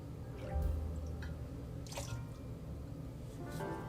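Mezcal pours into a cocktail tin, a soft liquid trickle with light drips, faint and close with nothing else over it.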